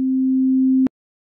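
Pure synthesizer sine wave tone holding one steady low-mid pitch, with no harmonics, sounding loud and alone for under a second before cutting off abruptly with a faint click.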